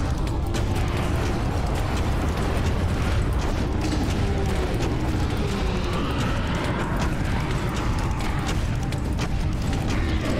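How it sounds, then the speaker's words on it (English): Rocket launcher fire and explosions in the game Serious Sam 3 form a dense, loud, continuous wash of booms and rumbling blasts, with no pauses in the barrage. "Time for rockets."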